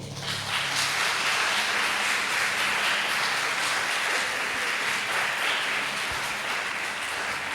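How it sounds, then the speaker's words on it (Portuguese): A church congregation applauding the Lord during a service at IEAB Limeira, dense sustained clapping from many hands filling the room steadily from start to finish. "Aplauda o Senhor"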